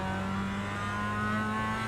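Mazda MX-5 Cup race car in iRacing at Tsukuba Circuit, its engine droning steadily at high revs with a continuous loud hum and no talk over it.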